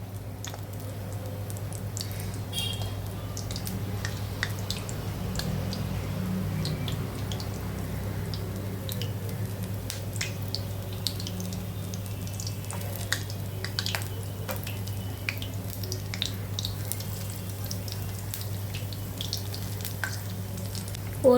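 Batter-dipped bajji fritters fry in hot oil in a home kitchen, giving a steady close sizzle scattered with small crackles and pops that runs throughout over a low constant hum, with no talking.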